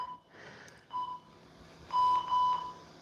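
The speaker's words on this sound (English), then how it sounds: "So wait for the buzzer." A workout timer sounds during a home abs and cardio core session with a few short, clear electronic beeps: a single tone, then a longer pair close together, heard alone over quiet room noise.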